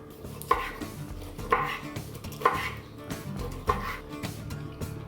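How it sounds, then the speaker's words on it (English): Knife slicing through a grilled wagyu picanha steak on a board, five evenly spaced firm chops about a second apart, close and clear with faint background rumble. "let's slice our picanha"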